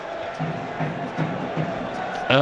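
Leicester football crowd jeering winger Evan Horwood during a 2009 Leicester versus United match, a broad roar of stadium noise running steadily beneath a radio commentator's voice.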